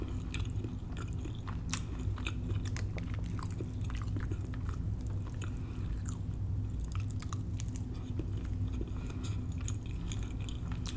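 Close, wet chewing and crunching of dry cornbread in a soul food meal, steady and continuous throughout with soft bites and mouth sounds, no talking.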